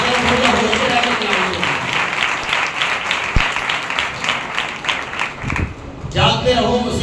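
A church congregation at a Sunday service claps in a rhythmic, fairly loud patter for several seconds, with people talking at the same time, then fades before a short renewed burst.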